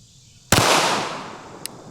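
A full-size Glock 9mm pistol fires one sharp, loud shot up close, followed by a long decaying echo and a faint click afterward.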